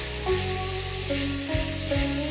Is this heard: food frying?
yes